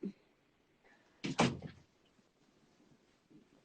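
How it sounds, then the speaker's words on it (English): A door is pushed shut indoors with a single brief, fairly loud thud, preceded by faint rustling and followed by quiet room sound. "Let me shut my door real quick."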